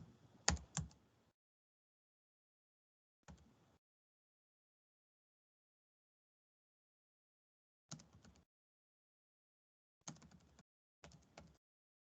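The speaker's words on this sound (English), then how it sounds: "I'm just typing in here what you just said" Short bursts of keystrokes on a computer keyboard, quiet and close, arriving in five separate clusters with long silent gaps between them.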